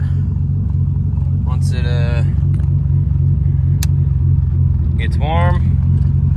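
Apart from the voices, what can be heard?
car engine running, not yet warmed up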